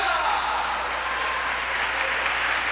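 A church congregation claps for Jesus during a lively evening service, a dense steady wash of hand claps holding at even loudness from start to finish.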